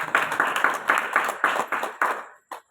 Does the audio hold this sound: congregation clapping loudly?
yes